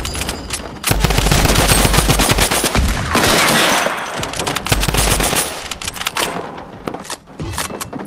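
Video game gunfire fills a shooting montage: rapid bursts of automatic fire and individual shots, loud and close, with brief pauses between volleys and no talking.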